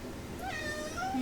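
A cat meows with a drawn-out, wavering call over steady background noise, faint and close.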